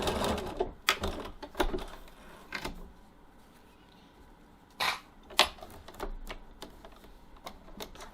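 Sewing machine basting the ends of tote bag handle straps, quiet bursts of rapid stitching separated by pauses, with soft handling clicks and fabric rustles between runs.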